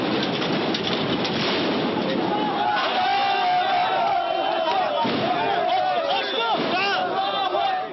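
A dense crowd of Palestinians shouts and roars at the large metal gate of the Gaza-Egypt border crossing, a loud, continuous wall of voices with occasional rising cries.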